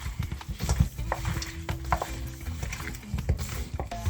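Hands rubbing jerk sauce into raw chicken wings, producing close, wet squelching and slapping sounds in irregular bursts, fairly quiet.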